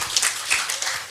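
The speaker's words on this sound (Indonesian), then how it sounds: "Tepuk tangan untuk Bang Dian Budi Wijaksono" An audience at a student entrepreneurship general lecture claps briefly, a short burst of dense hand claps filling the hall.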